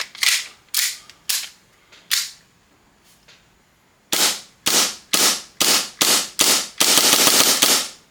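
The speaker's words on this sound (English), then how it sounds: "let's just dry fire it" Novritsch SSP5 Hi-Capa airsoft pistol being dry fired empty, a series of sharp close metallic snaps, first spaced apart, then after a pause a quicker run of shots ending in a denser burst.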